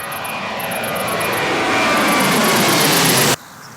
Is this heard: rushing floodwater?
no